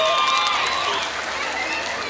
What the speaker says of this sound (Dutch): En om hier te gaan staan is een heel dik applaus waard.